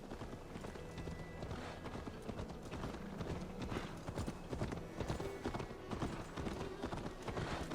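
Horse hooves gallop in a steady, rapid clip-clop rhythm in Assassin's Creed Valhalla, fairly close and continuous throughout, with faint background game ambience.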